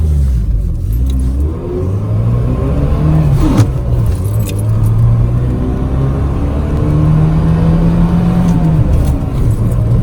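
A Mercedes W202 running on LPG accelerates hard, its engine note climbing through the gears with a shift midway and keys jangling inside the car, loud and close.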